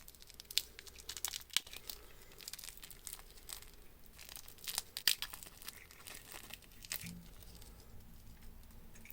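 Plastic wrapping being peeled off an Escapement Time PT5000 watch, with crinkling and tearing bursts recurring irregularly up close, a quiet stretch between handlings.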